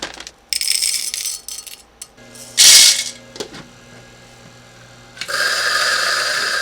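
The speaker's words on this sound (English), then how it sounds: "First, we need to grind some beans." A grinder crunches coffee beans in several short, loud bursts of whirring and rattling, separated by brief pauses and clicks, with a sustained grinding stretch at the end and no talking.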